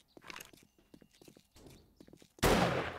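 A gunshot in the video game 7 Days to Die fires loudly after a stretch of quiet footsteps and scattered taps, its sharp crack trailing into a sustained noisy echo.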